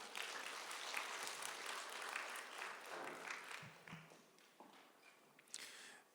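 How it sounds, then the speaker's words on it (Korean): Church congregation clapping together after a closing prayer at a Korean church prayer meeting, a steady dense patter of applause that thins and fades out near the end. "하나님께 영광의 박수 돌리겠습니다."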